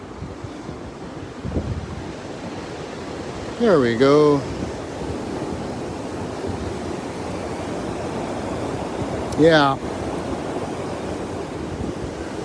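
The Lower Falls in Rochester, New York, produce a constant, close, rushing roar, while someone speaks two brief times over it.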